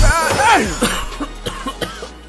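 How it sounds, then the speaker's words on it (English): A person coughs in a quick series of short, dry bursts following a brief vocal sound, each hack close and fairly loud, five or so in succession with no speech over them. "why you coughing for"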